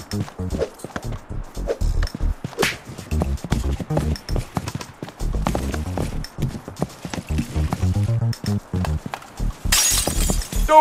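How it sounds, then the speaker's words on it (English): Glass shatters repeatedly in the co-op moving game Moving Out 2, with sharp crashes, thuds and clattering footsteps between them and one bright burst of breaking glass near the end. A voice talks over parts of it. "Don't worry about broken glass."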